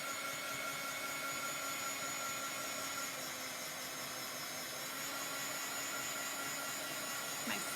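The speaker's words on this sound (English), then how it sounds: "My hair dryer is making woo noises." A hair dryer runs on chalk paste in a craft room, a steady close whooshing drone with a faint tonal whine, continuous throughout.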